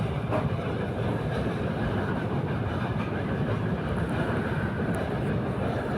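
A passenger train on the Natore to Joydebpur route crosses a river bridge, giving a steady, heavy rumble from inside the carriage. The din stays even and continuous with no clear breaks.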